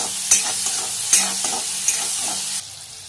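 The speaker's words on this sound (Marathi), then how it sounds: "कांदा टाकल्यानंतर मीठ टाकलं ना की कांदा छान भाजतो। दोन मिनिटं भाजून घेऊया मोठ्या गॅसवरती।" Onion with salt frying in a pan over high flame for a dried-shrimp (jawla) bhaji, a constant close sizzle with a few sharp spatula scrapes and knocks, ending abruptly.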